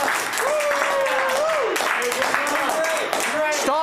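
Crowd applause and clapping during a livestreamed Christmas award show, a steady, dense wash of claps lasting several seconds, with a voice talking over it throughout.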